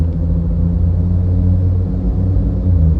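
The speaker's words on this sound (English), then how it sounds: "Wow, that is a loud car." A loud car passes outside as a deep, steady low rumble that swells slightly toward the end, heard alone without talk.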